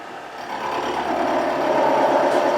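A machine handle cranked by hand during machining of a metal part: a continuous, fairly loud whirring and grinding drone that builds slightly and holds steady throughout.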